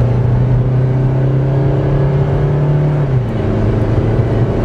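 Suzuki Esteem car accelerating at full throttle, heard from inside: a loud, steady engine drone that climbs in pitch, dips briefly at a gear shift, then keeps rising.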